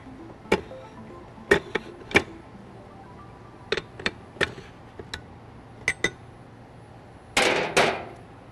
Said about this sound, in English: Now I'm going to tighten this down with my dome retainer.